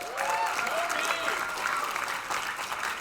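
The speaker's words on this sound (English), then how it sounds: "So a big round of applause to you guys." An audience applauds game jam presenters at a Global Game Jam final presentation event, with continuous moderate clapping filling the room while a voice talks over it.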